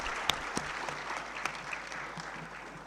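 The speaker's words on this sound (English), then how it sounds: "can we give a hand to the panelists for their good performances of applause?" An audience at a high-level international conference applauds panelists, with a steady, fairly soft wash of many hands clapping and a few sharper claps standing out before it tapers slightly.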